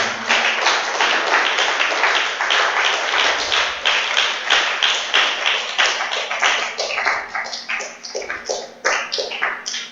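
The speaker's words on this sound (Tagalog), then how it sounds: "Palakpak sa Panginoon." A church congregation claps and applauds, with dense rapid clapping at a steady, loud level that thins slightly toward the end.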